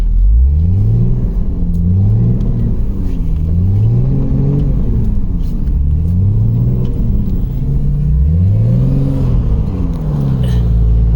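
A Jeep XJ in first low, stuck in a snowy rut, revs its engine in four rising and falling surges. The engine is loud and close, and the wheels spin under a constant rumble.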